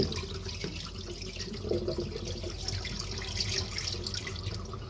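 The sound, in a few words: rinsing sticky rice and pouring off water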